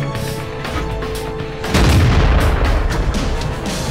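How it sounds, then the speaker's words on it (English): A T-50 light tank fires on the player's vehicle in a tank combat game. A single heavy boom lands partway through and leaves a loud, rumbling roar over steady engine and battle noise. "So I've got that T-50 shooting at my side."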